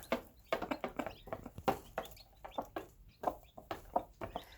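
Mother hens and their little chicks cluck and peep in a brooding pen, a steady run of soft, closely spaced calls heard up close without any talk.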